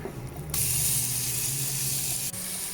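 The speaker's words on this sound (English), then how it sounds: "I'm warming up about 2 tablespoons of olive oil in the pan, and in goes the bacon" Bacon dropped into about two tablespoons of warm olive oil in a pan, bursting into a loud, bright, continuous sizzle after a quiet moment, with a short break near the end.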